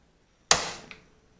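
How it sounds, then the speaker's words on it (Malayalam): A stove fire is lit in a home kitchen while cooking a liver roast: one sharp, close ignition burst that flares up and fades over half a second, followed by a small click, with no talking. "തീ ഒന്ന് കത്തിച്ചെടുക്കാം"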